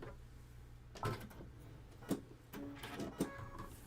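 A sewing machine runs in a few short bursts while putting a couple of tack stitches between line and seam allowance, quiet mechanical whirring and clicks near the machine.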